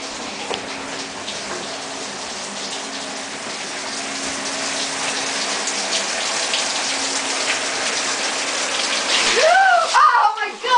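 Ice water is poured over a shower curtain into a running shower, a steady rushing, splashing gush building louder and ending with a sharp startled cry.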